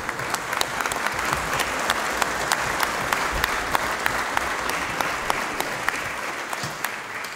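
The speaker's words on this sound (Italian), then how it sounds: "il collega Pietro Nicotera, al quale tributerei un vero applauso" Audience applause at a book presentation for Pietro Nicotera's book on the Erich Priebke trial: dense, sustained clapping from a nearby crowd that holds steady for several seconds, with no voices over it.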